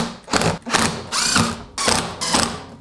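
Screws are tightened on a brewing pump with a power driver, heard as four close whirring bursts separated by short gaps, and no one talks.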